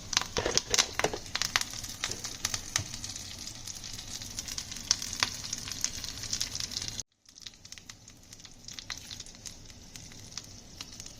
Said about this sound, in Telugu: రెండు వెల్లుల్లిపాయ వేసి కొంచెం ఫ్రై చేసుకుంటాం.